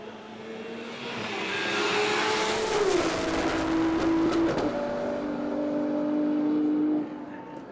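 A Nissan GTR Skyline race car passes at high speed on an open top-end run, its engine note rising and then dropping in pitch as it sweeps by, loud for several seconds before cutting away.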